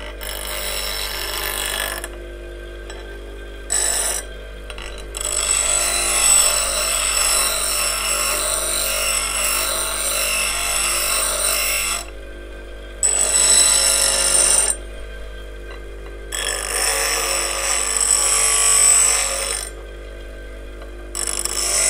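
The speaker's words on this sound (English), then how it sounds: "Now I can develop the basic fingernail grind with the tool flat on the rest," A woodturning gouge is ground on a coarse grinding wheel, giving a steady loud abrasive whine and hiss in long stretches, broken by brief pauses as the tool lifts off and returns, with the motor hum running under it.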